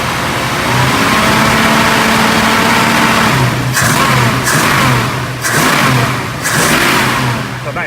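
A 1966 Ford Mustang Coupe engine idles steadily, then is revved in four short, loud bursts that rise and fall back to idle, close by with no talk.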